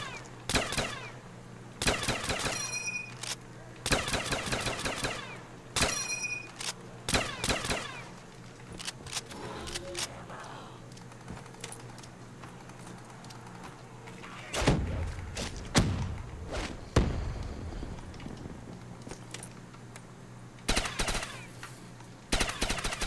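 Rifle fire in Black Ops 3 custom zombies comes in rapid bursts of sharp automatic shots, interspersed with heavy thuds and impact sounds from the game, fairly loud and close.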